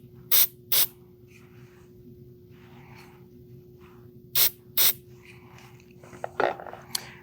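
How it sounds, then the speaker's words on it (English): Two pairs of sharp, close hisses from a spray bottle of CA glue accelerator misted onto a waste block for the lathe, with quiet handling noises and faint clicks between them. "I'm going to give it a couple of sprays with some accelerator"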